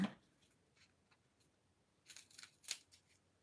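A few quiet, crisp snips of scissors near the end, after a mostly silent stretch with a single soft click at the start.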